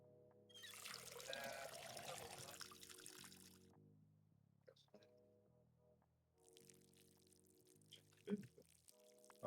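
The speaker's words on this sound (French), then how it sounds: "Remplir l'arrosoir." Water pouring into a watering can in the farming game Schedule One, a rushing fill that cuts off and later resumes, heard under steady talking with a faint musical background hum.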